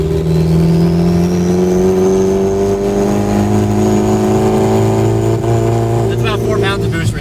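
A turbocharged engine in an $800 car revs loud and close under boost, holding a high, steady strained drone before dropping off near the end as a turbo whistle and flutter break through.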